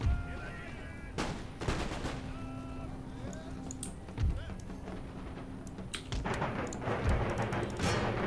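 Volleys of hand mortar and musket fire in the Empire Total War battle game, with sharp booming blasts and crackling gunfire over a constant battle din, plus a faint horse-hoof clatter.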